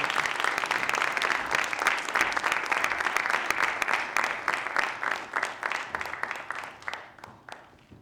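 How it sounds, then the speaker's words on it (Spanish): An audience claps for speakers being called on stage at a commemorative ceremony honouring Santiago Ramón y Cajal at the Cajal Museum, dense, sustained applause that holds for several seconds before tapering off near the end. "Un aplauso para ellos."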